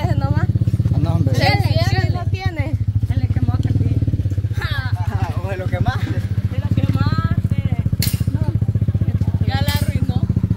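A motorcycle engine idles with a steady, low, throbbing rumble close by, while people talk over it almost continuously.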